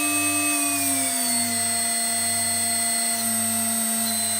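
An HSD CNC router spindle driven by an Ecogoo 9100 VFD at 400 Hz whines steadily and loudly, its tone sliding down from about 24,000 RPM toward 18,000 RPM and then holding there.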